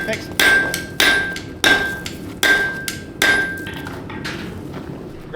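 A blacksmith at a forest heritage centre demonstration hammering hot metal to knock in the corners, five loud ringing blows at a steady pace with a metallic tone, followed by quieter taps.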